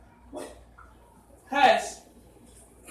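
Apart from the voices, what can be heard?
dogs barking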